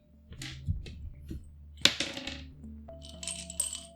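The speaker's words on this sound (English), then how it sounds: "everybody roll me a d10" Dice, including a ten-sided die, rattle and tumble across a table during a tabletop role-playing game: several light, close clattering bursts over faint background music, with no talk.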